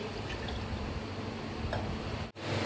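Water is poured into a jug holding plums and sugar for plum juice, giving a steady, close rushing pour that runs unbroken before a brief cutoff near the end.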